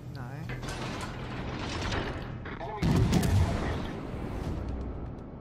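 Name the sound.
warship gun salvo, from the video game World of Warships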